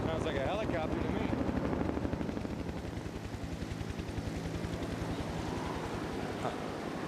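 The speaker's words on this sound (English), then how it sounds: "Sounds like a helicopter to me." A helicopter's rotor thuds steadily overhead, a rapid rhythmic chopping that fades slightly, with wind and a voice speaking in the foreground.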